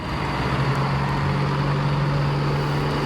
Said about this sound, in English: I started hearing someone revving their truck outside of my campsite